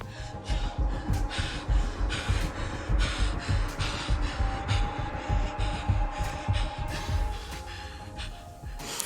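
A woman's laboured breathing in a TV drama scene, heavy rhythmic gasps and exhales repeating steadily and close, with a low hum underneath.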